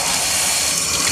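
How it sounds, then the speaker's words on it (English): Tap water runs steadily over a dirty, soapy vacuum filter from a Hoover Blade, a continuous close splashing rush with no pauses. "Then we're just gonna run it under the water."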